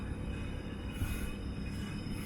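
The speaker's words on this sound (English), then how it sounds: "there's a Freightliner train going past" A steady, loud rumble of a passing Freightliner freight train loaded with tarmac fills the clip, continuous rolling noise with a faint high metallic whine on top, heard from a boat on a river near Shardlow.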